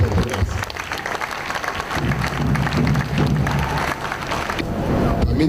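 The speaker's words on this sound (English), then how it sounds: "I think the governor and the people of Ondo State deserve a big round of applause." Loud applause from a large crowd at a public event in Ondo State, dense continuous clapping with a low murmur of voices and some cheering underneath.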